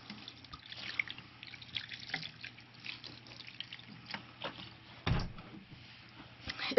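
Water poured into a worm bin with bedding, a soft, faint trickle with small drips and one brief louder splash midway, with no talking.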